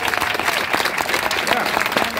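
Steady, dense applause from an audience at a political rally in Tempe, Arizona, filling the whole stretch with continuous clapping at an even level.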